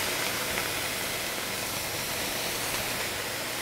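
Kale, still a little wet, sizzles in a hot pan with a steady, dense hiss that stays close and loud throughout.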